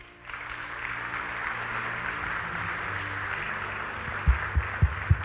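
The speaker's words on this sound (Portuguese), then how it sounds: "Palmas para o Senhor Jesus" Steady applause from a church congregation fills the space at moderate level, with a few louder low thumps near the end and no talking over it.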